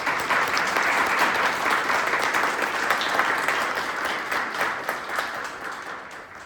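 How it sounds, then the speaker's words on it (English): An audience at a Poland Township trustee public forum applauds steadily, a dense round of clapping that holds loud for several seconds and then begins to thin and fade toward the end. "Can we get a quick round of applause for all of their time and answers?"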